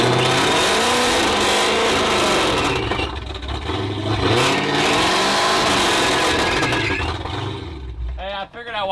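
A stolen Dodge Hellcat's engine runs loud and close, rumbling and revving with rising and falling surges throughout, sputtering and cutting out near the end, with people talking over it.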